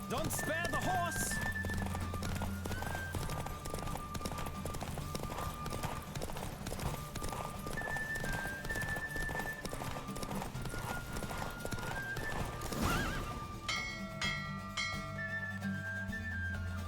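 Rhythmic hoofbeats of a galloping horse in a Witcher 3 horse race clatter steadily throughout, mixed with game music and occasional whinnies, while voices speak over the action.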